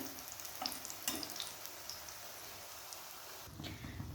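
Quiet, steady sizzling of an egg dish frying in oil, with a few soft crackles and pops.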